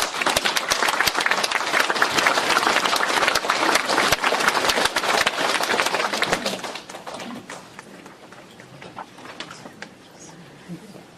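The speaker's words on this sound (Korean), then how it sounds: "큰 박수 부탁드립니다" An audience at a humanities forum lecture breaks into loud, dense applause to welcome a professor to the stage, holding steady for several seconds before thinning out and fading near the end.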